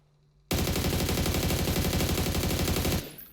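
Rapid automatic fire from a rifle fitted with a vertical grip in PUBG, fired standing: one loud, continuous burst of close shots lasting about two and a half seconds, then cutting off abruptly.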